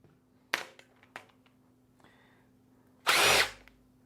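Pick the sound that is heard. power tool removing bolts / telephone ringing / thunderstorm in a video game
power tool removing bolts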